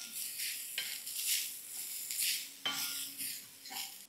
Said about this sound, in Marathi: याला छान परतून घेऊ आपण